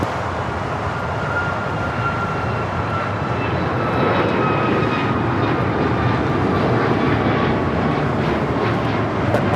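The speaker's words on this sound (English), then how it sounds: "This is Alaska Airlines 1240 taking off to Portland on the MAX 9." An Alaska Airlines Boeing 737 MAX 9 takes off for Portland at LAX, its engines a loud, sustained roar with a steady high whine, building slightly in strength partway through.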